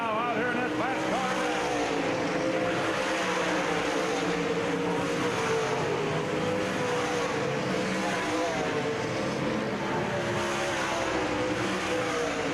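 Race cars roar continuously around a dirt-track speedway during a 1997 UMP Summer Nationals feature at Davenport Speedway, a dense, distant engine drone with overlapping cars and a faint crowd-wash layer.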